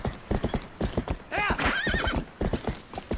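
Horse in the Zelda Twilight Princess video game, with rapid clip-clop hoofbeats running throughout and a loud, wavering neigh rising in the middle, close and prominent.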